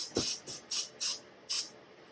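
Five short hissing bursts of cooking spray inside a cup in a quick uneven series, close up, with a soft tap at the start and no talking.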